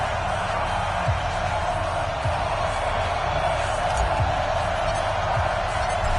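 Stadium crowd noise in an NFL video game on PS4, Miami Dolphins versus Carolina Panthers, a dense continuous roar of fans with low rumble, a few thumps, and a commentator's voice over it.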